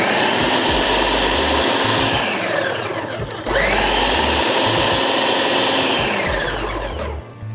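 Blender pureeing a jerk chicken marinade, a loud, steady motor whine up close that dips briefly midway as the pitch shifts, then resumes and runs on before winding down near the end.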